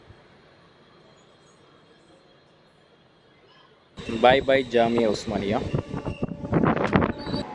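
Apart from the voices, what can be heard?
DEMU train running between Kachiguda-line stations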